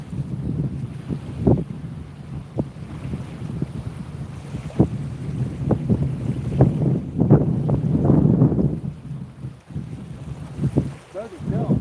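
Strong wind buffets the microphone beside a lake where someone is fishing for trout at Haystack, a steady low roar with louder gusts and brief thumps throughout, while a person talks intermittently over it.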